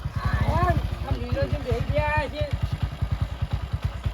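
An old motorcycle engine idles nearby with a steady, loping put-put rhythm while someone talks over it in the first half.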